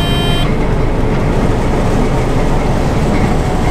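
An old, worn-out combine harvester with its header engaged, a dense steady mechanical roar and rattle running loud and continuous, with a brief high whine at the very start.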